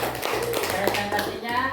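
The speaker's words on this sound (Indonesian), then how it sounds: "Beri aplaus dulu untuk kelompok 1." Classroom applause for a student group after its presentation, a dense run of clapping from many hands filling the room, close and steady throughout with a brief dip partway.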